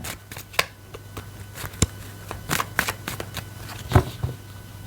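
Tarot cards shuffled by hand in a run of crisp, irregular flicks and riffles, with a few sharper slaps standing out, close up and fairly quiet, with no talking.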